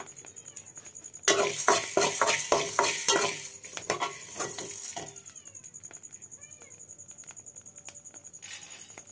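Coriander seeds dry roasting in a pan for dry ginger coriander coffee, a dense crackling patter and scraping stir, loudest early and then thinning to a soft steady sizzle.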